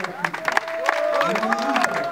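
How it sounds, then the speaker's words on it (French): An audience applauds and cheers an artist at a tribute gathering, a dense wash of clapping with crowd voices and a sustained tone over it, steady and close throughout. "Nous allons l'applaudir."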